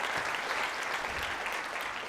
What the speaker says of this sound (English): Really quick, round of applause for Sam for creating that stuff.